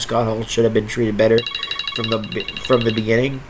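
A phone rings with repeated high electronic trills, heard clearly over a man's continuous speech.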